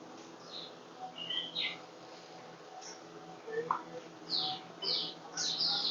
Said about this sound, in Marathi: इथे शांतपणे थांबलं ना तर पक्ष्यांचा खूप सुंदर आवाज ऐकू येतोय